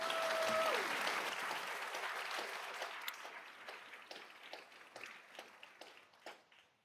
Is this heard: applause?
yes